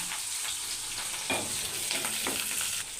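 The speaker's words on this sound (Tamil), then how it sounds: "வெங்காயம் நல்லா வதக்கட்டும்." Onions frying in oil in a pan with curry leaves for a brinjal tamarind curry, a steady broadband sizzle with faint stirring scrapes, close and continuous with no talk.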